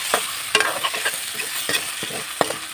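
Water poured into a pan of boiled eggs frying in an Assamese home kitchen, with a steady sizzle broken by sharp clinks and scrapes of stirring repeated through the clip, close and fairly loud with no talk.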